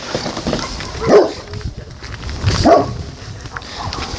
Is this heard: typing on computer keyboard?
no